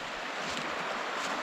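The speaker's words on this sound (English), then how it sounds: "It is going to be wonderful sleeping to the sound of this water all night." Hyner Run stream rushes past a campsite over a little cascade, a steady, full broadband wash of flowing water, close and unbroken, with no voices.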